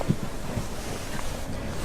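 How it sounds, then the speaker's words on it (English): Low, rumbling wind buffeting a microphone fitted with a furry windscreen, outdoors at a car expo, steady and blustery throughout with no voices. "It's a little bit windy, so hopefully the dead cat here on my mic holds up."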